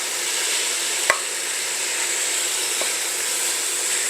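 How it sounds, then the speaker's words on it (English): Meat browning in a pan makes a steady, loud sizzle throughout, with a slotted spatula giving one sharp scrape and a fainter tap against the pan. "I'll use my handy dandy slotted spatula to get all this nice and browned"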